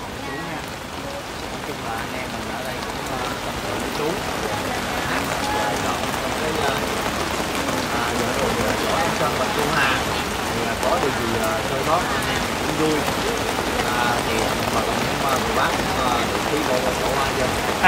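Heavy rain pours onto surfaces in a historic storm with strong wind, a dense, continuous hiss and patter that stays loud and steady throughout, with faint voices murmuring underneath.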